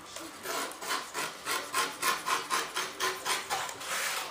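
Knife trimming a part in a few shallow passes, giving a steady series of close, dry scraping strokes with an even back-and-forth rhythm, about nine strokes with no talking.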